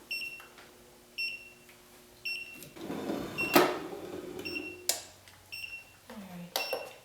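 A device used in making custom clothing merch gives short, bright electronic beeps, several spaced tones rising over a clattering handling noise and faint room sounds, with no one talking.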